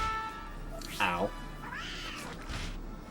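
Meows from a cat in the Dragon Quest 8 video game, two or three short mewing calls loud and close over a quiet game soundtrack.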